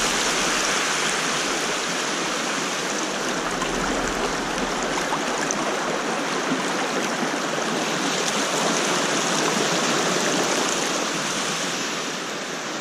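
A mountain stream on a misty forest trail runs with a steady, loud rushing and splashing of water, close and continuous throughout with no voices.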